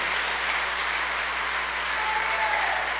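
A church congregation claps steadily during a Spanish-language sermon, a dense, even wash of applause that holds at the same level throughout.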